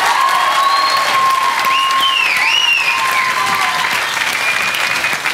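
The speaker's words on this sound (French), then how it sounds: "s'il te plaît, grand applaudissement pour amie de moi" Loud, dense audience applause from a large crowd at a televised show, sustained and close, with whistles and faint cheering rising over the clapping.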